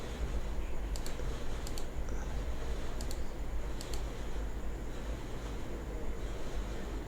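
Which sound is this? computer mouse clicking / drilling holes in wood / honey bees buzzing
computer mouse clicking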